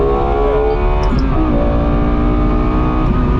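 Lexus LFA engine revving loudly and continuously through a gear upshift, with a dense, steady, high-pitched roar and the pitch dropping briefly as the gear changes.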